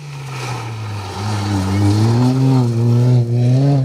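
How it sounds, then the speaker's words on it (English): A supercharged Mini rally car on a forest stage runs close with a droning engine note, its pitch rising and dipping as it revs, under a voice talking. "You can hear that supercharger whining on the little mini"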